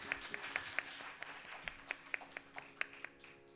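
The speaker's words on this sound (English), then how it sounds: "A big round of applause for our budding artist." An audience claps after a Bharatanatyam dance recital. The applause is moderately faint, with scattered sharp claps standing out over a steady patter of hands, and some talk murmurs underneath.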